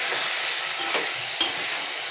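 Fish sizzling in hot oil in a small home kitchen, a steady close crackle and hiss with brief stirring scrapes, no voices.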